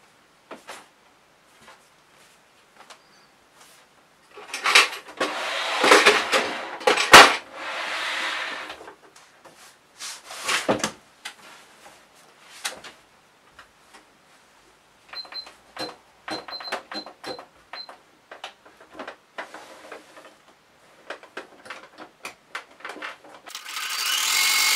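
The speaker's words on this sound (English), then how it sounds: "I'm going to zigzag my raw edges just to neaten them" A sewing machine zigzag stitches the raw edges of a tea towel for a tote bag, running in short irregular bursts of rapid mechanical whirring and clatter separated by quiet pauses.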